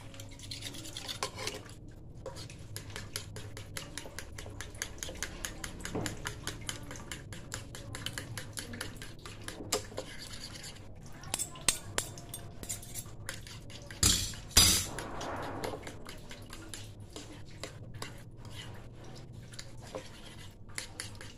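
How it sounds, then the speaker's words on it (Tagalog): A utensil mashes canned sardines in a bowl for a Filipino sardine omelette, making soft, scattered clinks and scrapes at low level with a few sharper taps. No one speaks. "Durugin mabuti yung sardinas."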